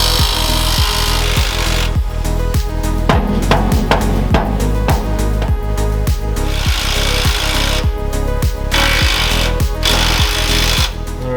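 An impact wrench hammers at stuck bolts on a heavy turbo Ford F350 pickup, a loud, close, relentless rattle of rapid blows that keeps going without a break.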